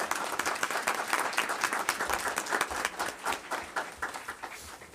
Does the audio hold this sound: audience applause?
yes